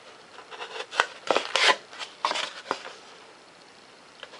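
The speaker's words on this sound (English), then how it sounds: "Come in here with an X-Acto knife. Take and trim this piece out." An X-Acto knife trims a foam thrust tube for a 70mm EDF jet. It makes soft, scratchy scraping strokes that come in short irregular bursts, close by and fairly quiet.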